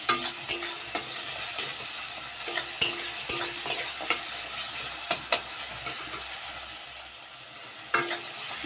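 Paneer masala with tomato and green chilies frying in a pan, a continuous sizzle broken by regular sharp scrapes and taps of a spoon against the pan, close and fairly loud, with no talking.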